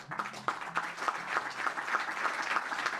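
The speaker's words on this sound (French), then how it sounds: "On peut les applaudir." Applause from a conference audience after a business talk, a steady patter of many hands close by with a low voice murmuring underneath.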